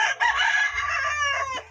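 A rooster crows loud and close, one full call kept for sale on a Filipino home plot, with a few faint clucks from other fowl.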